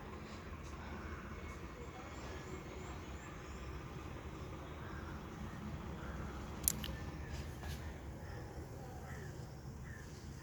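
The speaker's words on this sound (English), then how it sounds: "There is a tractor over there." A tractor engine idles at a distance, a low steady rumble throughout, with a brief sharp click near the middle over faint outdoor background.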